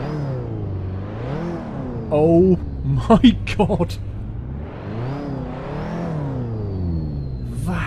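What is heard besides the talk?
car engine revving exhaust note in Assetto Corsa video game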